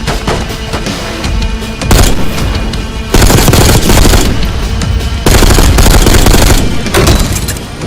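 Sentry gun turrets in Call of Duty: Black Ops 6 fire sustained, loud automatic bursts in several long waves, with heavy thuds and booms mixed into the rapid chatter.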